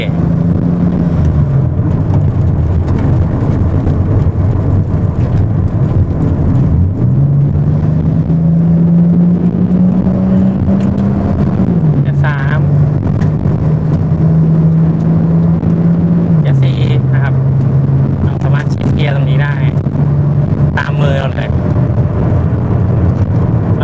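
A Toyota Supra with an automatic transmission drives along, its engine droning steadily and stepping in pitch as gears change up and down, with a voice talking over the continuous road rumble.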